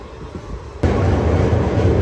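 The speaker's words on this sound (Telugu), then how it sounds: "పక్కన బొగ్గు గూడ్స్ ట్రైన్." A coal goods train runs alongside a moving passenger train near Vijayawada, a steady rumble that jumps louder about a third of the way in and stays heavy and close to the end.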